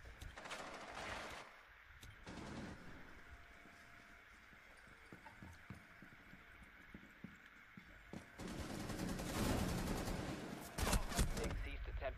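In Rainbow Six Siege, gunfire shoots at a camera, with rapid bursts of shots heard near the start and again in a louder, denser volley toward the end over a continuous game backdrop.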